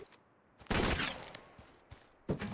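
Gunfire in the mobile shooter Apex Legends Mobile: a sustained burst of rapid shots, fairly close, followed by scattered single shots and a second short burst, with game sounds between the shots.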